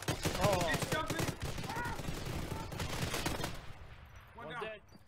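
Rapid bursts of HE rounds fired from a gun in a video game, dense clattering shots under excited, shouting voices, fading out near the end before one more short voice.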